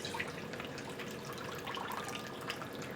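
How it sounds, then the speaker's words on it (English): Juice from a sous vide tri-tip pours into a bowl, a soft continuous trickling and splashing of liquid, faint and close, with no voices. "I'm just going to take the juice from the tri-tip that's going to be poured into this bowl."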